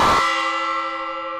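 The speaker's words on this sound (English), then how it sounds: "It's gong time, friends!" A single gong strike rings out for a stream hype train, a bright metallic clang that settles into a long, sustained shimmering tone and fades slowly.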